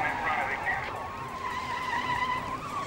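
Car driving erratically on flat tires during a police pursuit, tires squealing and skidding in long wavering whines over engine noise, with a narrator talking throughout.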